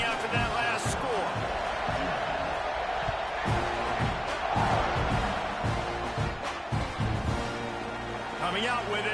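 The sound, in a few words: football stadium crowd buzzing after a score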